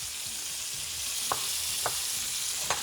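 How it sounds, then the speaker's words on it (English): Shrimp sautéing in a pan give a steady, close sizzle, with three short utensil scrapes or taps spaced through it and no talking. "You want to lightly saute your shrimp"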